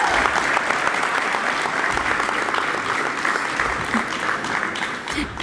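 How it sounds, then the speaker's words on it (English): A crowd applauds an athlete at a letter-of-intent signing with sustained, even clapping that fills the whole stretch. "So let's give him a round of applause."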